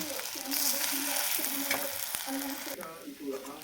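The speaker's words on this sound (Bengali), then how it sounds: "ডিমটা ভালোভাবে ভাজিয়ে নিচ্ছি, এবারে দিয়ে দেবো আমি সেদ্ধ করা আলুটা, এটাকে ভালোভাবে মিশিয়ে নেব।" Egg frying in a pan with boiled potato being stirred in, a continuous close sizzle with rhythmic scraping strokes of the spatula throughout.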